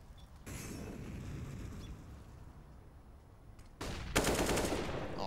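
Counter-Strike gunfire at an ESL Pro League match: a steady stream of rapid shots runs throughout, dropping briefly then returning in a louder, denser burst near the end, with no voices over it.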